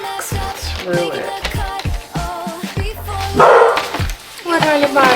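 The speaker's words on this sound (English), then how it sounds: "What are you barking at?" A dog barks repeatedly in short, loud bursts close by, mixed with a person talking and some higher yips.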